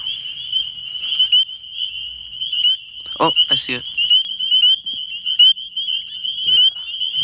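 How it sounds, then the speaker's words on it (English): A chorus of small frogs calls on a spring night, a dense, continuous high-pitched trilling with a few louder nearby calls, while a person speaks briefly over it. "these are probably the most common frog in my area, at least around this time of year"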